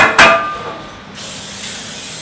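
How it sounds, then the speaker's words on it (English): A short, loud hiss of cooking oil spray into a baking tin after a sharp metallic clink, then quieter ambient noise with a faint hiss returning. "What I do first is I just spray a little bit of oil into that tin"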